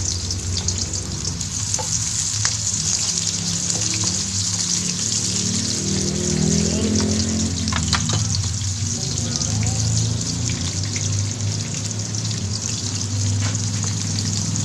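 Pork pieces and onions fry together in a pan with a loud, continuous sizzle and crackle, occasional stirring clinks and scrapes, and a low hum underneath.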